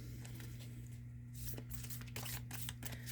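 Oracle cards are handled and shuffled to draw one, making soft, faint papery rustles and light flicks that come in scattered bursts over a low steady room hum.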